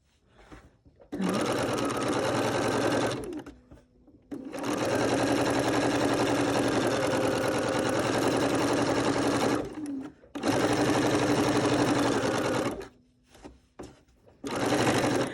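A Bernina sewing machine stitches fabric in long steady runs, its fast mechanical whir stopping briefly between bursts; close and fairly loud, with no voices over it.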